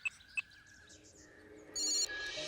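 A telephone ringing during a call in a Hindi-dubbed South Indian film, with two short chirps first, then a brighter electronic ring burst that gives way to a sustained tone, faint and close.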